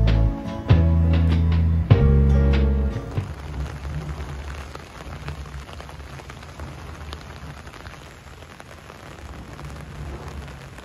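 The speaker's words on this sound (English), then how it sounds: "it's bucketing it down in Grange-Over-Sands" Heavy rain pours down in Grange-Over-Sands, a dense steady hiss of drops. Loud low-pitched tonal noises dominate the opening seconds before the rain carries on alone.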